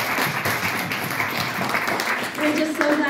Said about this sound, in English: Another round of applause for our guest speaker